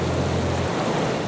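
A waterfall rushing as a steady, broadband roar of falling water, constant and fairly close, with a low hum fading out partway through.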